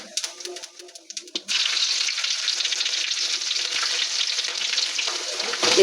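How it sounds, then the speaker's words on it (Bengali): Onion, garlic, green chilies, dried red chilies, bay leaf and cumin hit hot oil in a pan for lentil dal, bursting into a loud, steady sizzle that carries on unbroken after a few quiet clinks. "পেঁয়াজটা একটু ভাজা ভাজা হবে।"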